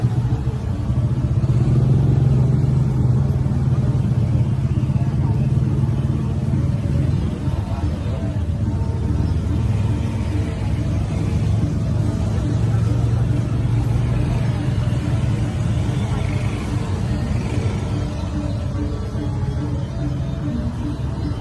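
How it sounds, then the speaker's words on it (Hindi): Steady street traffic rumbles nearby in a traffic jam in Ubud, Bali, with engines idling and creeping along and motorbikes passing, and no horns sounding. "पाली के उबुद में फुल ऑन ट्रैफिक जैम लगा हुआ है"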